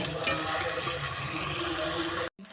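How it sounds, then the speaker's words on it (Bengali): Water poured onto bricks gives a steady, fairly loud rushing splash close by that stops abruptly near the end. "ইটে জল ঢেলে দেবো।"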